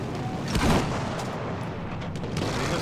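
Artillery booms in Battlefield 1: a single deep, heavy thud early on, then a low rumble and scattered distant cracks of battle.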